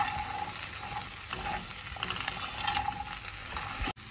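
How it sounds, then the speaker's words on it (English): Chickpea snack seasoned with fine salt being stirred in a pan, a steady dry scraping and rattling with faint sizzle throughout, ending in a brief dropout. "Stir well, about 2 minutes."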